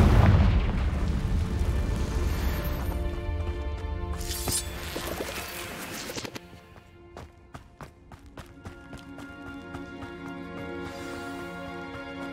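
Confringo fire spells burst in Hogwarts Legacy gameplay, a heavy booming explosion up front that rolls into crackling, ringing debris and fading rumble, loud and close over game music.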